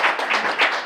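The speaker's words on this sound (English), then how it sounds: "I got to give a big round of applause to Jerry DeFilly" A round of applause from the crowd at a VIP breakfast event, a dense, steady patter of many hands clapping together in a short burst, fairly loud.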